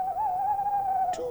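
An owl hoots at night in a garden: one clear, sustained hooting note held steadily, then dropping in pitch at the end, close and fairly loud over quiet background.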